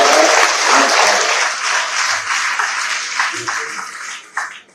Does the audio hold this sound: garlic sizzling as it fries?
no